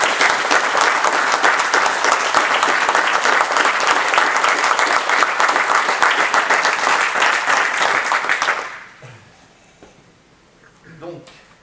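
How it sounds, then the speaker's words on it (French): Applause fills a municipal council installation meeting, steady and dense from a room of people for about eight seconds before dying out, followed by faint murmurs and a brief voice. "je voudrais poursuivre cette petite réunion par nos applaudissements vis-à-vis de toutes ces personnes"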